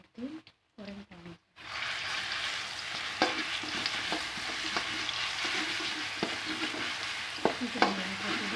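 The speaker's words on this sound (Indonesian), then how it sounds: "Kembali lanjutin goreng tempe." Tempeh frying in a pan of hot oil, a dense continuous sizzle up close with occasional louder pops and crackles and some clatter from stirring, following a few brief knocks and silences at the start.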